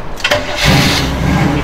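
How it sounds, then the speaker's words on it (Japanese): A Chevrolet Chevy Van fitted with a swapped-in V8 cranks briefly and fires on the first try, settling into a loud, steady rumbling idle close by. "エンジン かけるでしょうか"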